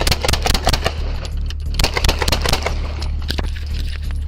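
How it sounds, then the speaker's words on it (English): Rapid bursts of gunfire crackle through a police shootout, sharp repeated shots over a steady low rumble, loud and close with dense clusters of impacts. "Shots fired."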